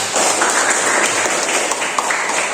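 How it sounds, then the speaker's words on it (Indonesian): Classroom applause for a student during a university performance assessment in Ambon, brief and fairly loud steady clapping from a group, continuing for a couple of seconds. "Tepuk tangan dulu Yosua."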